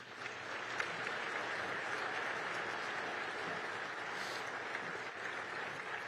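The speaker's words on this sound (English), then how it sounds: "Please help me give Mayor Johnson another round of applause." Sustained audience applause fills a large hall at a State of the City address at the El Paso Convention Center, a steady dense wash of clapping with no talk and no break.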